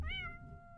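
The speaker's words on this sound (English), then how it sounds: "Oh, it's the cat." A cat in the video game Impostor Factory gives a single clear meow that rises and then slides gently downward. It is short and fairly quiet, with no talking.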